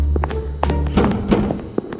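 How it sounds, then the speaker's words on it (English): Someone bangs on a door in a VR game, a few dull, heavy thuds spaced irregularly over a low, steady background hum, close and fairly loud with no talking. "there's just someone banging on the door"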